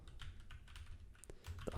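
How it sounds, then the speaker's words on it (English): Light, rapid typing on a computer keyboard, soft and close, with a quick run of key clicks and a slightly louder keystroke near the end, no talking. "You might notice that I'm typing a star"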